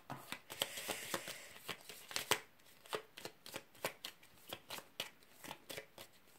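Tarot cards being shuffled by hand in a repeated series of crisp riffling bursts, fairly close and moderately loud, with no talking over them.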